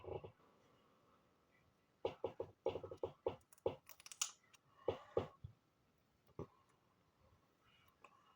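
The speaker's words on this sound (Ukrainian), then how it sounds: "Потім беремо звичайний скотч і відклеїмо його." Adhesive tape is pulled off a roll in a series of sharp crackling rips and short bursts, close up, with quiet pauses between.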